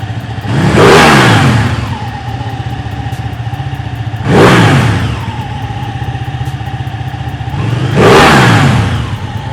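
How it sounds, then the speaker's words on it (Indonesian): Ducati Panigale 1199 S motorcycle engine revved hard three times from idle, each loud, close blip climbing and falling back over about a second before the steady lumpy idle returns. "Dan itu dia tadi suara dari Ducati Panigale S1199 teman-teman."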